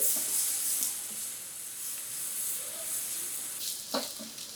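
Soy sauce and a pinch of red chili flakes sizzle steadily as they reduce in a pan, a constant close hiss with faint stirring scrapes and a small clatter near the end.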